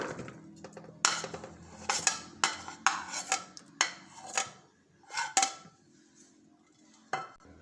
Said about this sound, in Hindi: सबसे पहले हम लोग डालेंगे चने, इसमें डालेंगे आलू